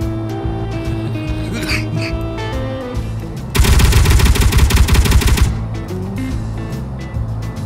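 Laser weapons firing in Space Engineers, a burst of rapid repeated blasts in the middle, loud and dense like machine-gun fire, over a background of game engine hum and tones.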